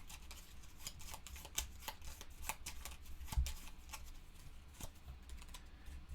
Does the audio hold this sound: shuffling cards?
yes